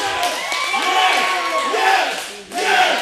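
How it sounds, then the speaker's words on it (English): A wrestling arena crowd roars and chants in unison, a loud, dense wall of voices with rhythmic rises and a brief dip before surging again. "The crowd chanting yes."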